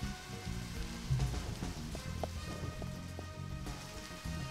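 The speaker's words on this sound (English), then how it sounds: "am I outside in the rain?" Rain falling outdoors in the Deadly Premonition Director's Cut game, a soft steady patter on surfaces with a few sharper drips, continuous and fairly quiet.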